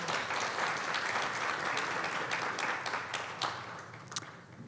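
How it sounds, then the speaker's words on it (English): An audience at a Muslim mental health conference for community leaders gives a round of applause, dense clapping that gradually thins out, leaving a few scattered late claps near the end. "give them a round of applause"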